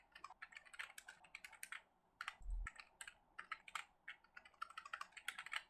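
Code being typed on a computer keyboard: quick irregular bursts of close, crisp keystrokes with short pauses, one heavier thump near the middle, and no voices.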